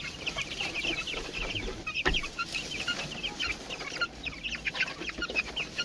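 Chickens clucking steadily in a backyard coop, a dense overlapping chorus of short clucks and squawks close by, with one sharper call standing out around the middle and no talking.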